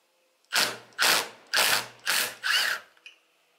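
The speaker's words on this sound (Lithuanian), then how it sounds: "Sunkiausias darbas mūsų laukia šitus varžtus atsukti" Bolts are being loosened on a Honda Dominator motorcycle with a power tool, heard as five short, loud, evenly spaced mechanical bursts, each about half a second long, with no talk.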